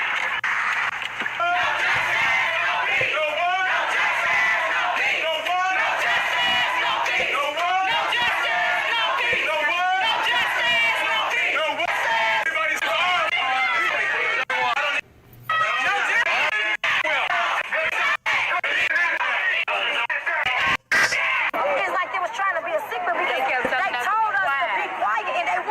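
A street crowd of protesters blocking traffic keeps up dense, continuous chatter and raised voices, loud and close, with a couple of brief dropouts.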